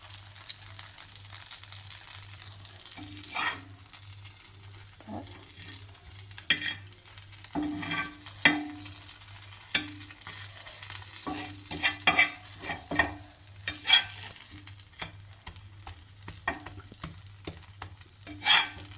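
Garlic bread spread with butter and grated cheese heating in a pan, a soft continuous sizzle broken by repeated scraping and clinking of a spatula turning the slices, close up with no talk.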